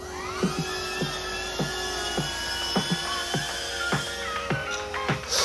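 A small drone flies nearby with a high whining rotor buzz whose pitch sweeps up and down, punctuated by regular clicking thumps roughly every half second, steady and fairly close, with no talking.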